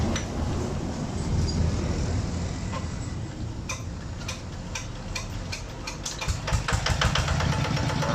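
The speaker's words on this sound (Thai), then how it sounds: "เดี๋ยวเรามา ลองเครื่องกันนะครับฟังเสียงกันครับ" A Magnum 155 Plus engine fitted to a Siam Kubota NC boat tail runs close by with a steady rough idle. A rapid ticking clatter sits over a low rumble, and the engine grows slightly louder near the end.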